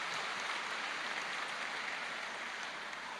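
A steady, dense wash of applause from an audience of husbands at a Catholic retreat, sustained evenly throughout with no clear breaks.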